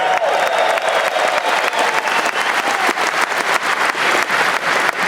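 A large conference audience of men claps steadily and loudly throughout, a dense continuous wash of applause with faint crowd noise mixed in.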